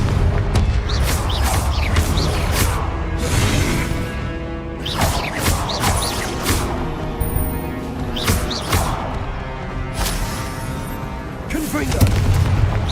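Repeated fiery spell blasts from combat in Hogwarts Legacy, heavy booming explosions with crackling bursts that keep coming for over ten seconds, loud and near, with a voice shouting spell names among them.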